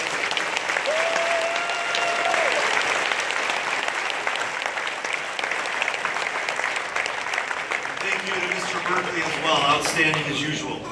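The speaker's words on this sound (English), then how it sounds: "Let's give them another round of applause." Audience applause at a junior high graduation performance, loud and sustained clapping from a crowd, with some cheering and brief voices mixed in toward the end.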